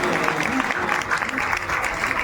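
An audience of devotees at a gathering claps together in a dense, sustained round of applause that stays steady and fairly loud throughout.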